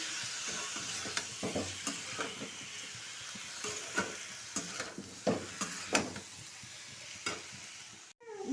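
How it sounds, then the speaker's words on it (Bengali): Chicken pieces frying with potatoes and onion in a pan, a continuous close sizzle broken by repeated stirring scrapes and utensil knocks, ending in a brief sharp scrape, with no talking. "এবার আমি দিয়ে দেবো চিকেন তাহলে ভালো করে একটু চিকেনটাও ভেজে নেবো আলুর সাথেই"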